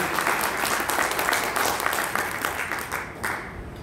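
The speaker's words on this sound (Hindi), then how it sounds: "जोरदार ताली।" Crowd at an Arya Samaj gathering breaking into loud, continuous applause, a dense wash of many hands clapping that holds steady and then begins to taper off near the end.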